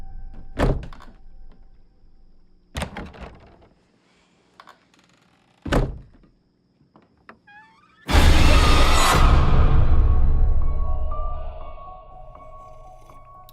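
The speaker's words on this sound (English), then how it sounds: "Can you close the closet door?" A closet door is banged shut several times in a Halloween (2018) film scene, sharp isolated thuds spaced apart, followed by a loud swelling rush of dramatic noise that slowly fades.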